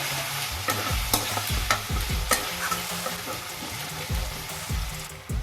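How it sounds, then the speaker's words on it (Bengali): Spices fry and sizzle in oil in a pan for chicken curry while a spoon stirs them, giving a steady close crackle broken by repeated scraping strokes; no one speaks. "মশলাটা প্রায় ভাজা ভাজা হয়ে এসছে, তেল ছেড়ে দিয়েছে"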